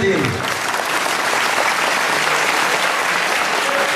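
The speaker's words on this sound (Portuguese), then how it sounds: "Eu queria que você desse uma salva de palmas para o seu Noel e a família dele." A crowd applauds steadily for the full stretch, a dense, even wash of clapping at close range with no pauses.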